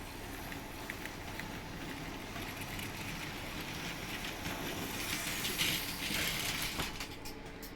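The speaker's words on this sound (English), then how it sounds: "Let's get this train started." Model train, locomotive 56011, starting to run on a home layout in a railway shed, a steady low mechanical rumble and hiss that builds slightly toward the end, close and continuous with no talking.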